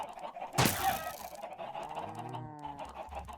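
Minecraft chickens clucking and squawking in a blocky game farm, a sharp loud burst followed by a run of softer nasal calls, close and alone without talk.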